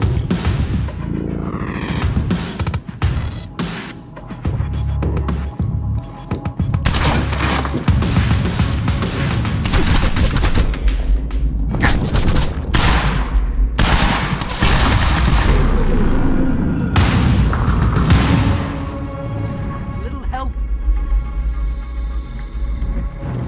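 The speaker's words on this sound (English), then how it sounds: "Why are they still shooting?" Heavy, sustained gunfire and machine-gun bursts fill a firefight in the action game Quantum Break, loud close volleys with rumbling impacts that keep going before easing off near the end.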